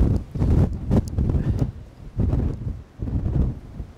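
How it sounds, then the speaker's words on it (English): Strong wind gusting around the old citadel in Calais, loud low rumbling buffets against the microphone coming in uneven surges with brief lulls between. "When it's really windy"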